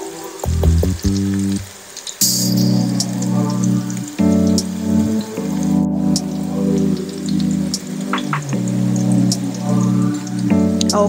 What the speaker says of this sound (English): Okay, our oil is good and hot. We just want to scoop a scoop up like that and put it right down in there. Flatten it out a little bit and just let it fry.